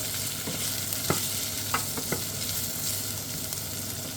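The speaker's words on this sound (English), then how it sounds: "Give that a quick mix up, a little stir." Potato and leek soup ingredients stirred in a pot over a soft, steady sizzle, with a few distinct scrapes and knocks of the spoon near the middle and no one talking.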